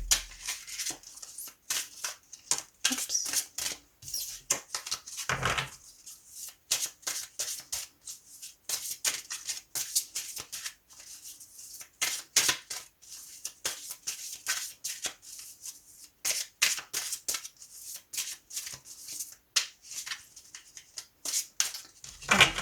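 Tarot cards cut and spread out on a table for a reading, a run of quick soft shuffling, flicking and sliding bursts, close and fairly quiet, with no talk.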